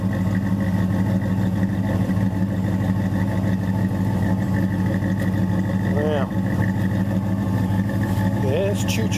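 A Dodge Ram pickup engine idles after a cold start, a steady low rumble running throughout at a constant level, with a few brief voices in the background.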